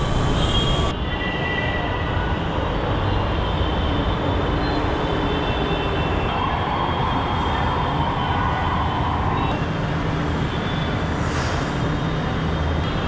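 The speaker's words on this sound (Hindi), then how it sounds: "मैं सुभाष नगर मेट्रो स्टेशन तो पहुँच गया हूँ।" Steady rumbling of a Delhi Metro train running through Subhash Nagar station, with a continuous mechanical roar and occasional higher screeches of wheels.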